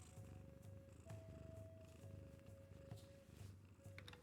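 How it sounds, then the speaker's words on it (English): Very faint, steady purring from a cat, soft and low, with a constant hum and faint background noise and no voices. "Can I get purrs?"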